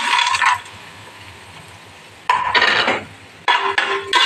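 Dry fruits drop into hot ghee in a pan for coconut burfi, giving bursts of loud sizzling and crackling in three separate spells with quieter gaps between them.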